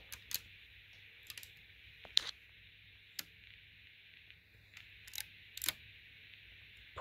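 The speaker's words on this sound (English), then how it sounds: "pull the bolt back" A Lego model of an AR-15 rifle gives sparse, faint plastic clicks and snaps as its bolt is pulled back, isolated ticks spread across an otherwise quiet stretch.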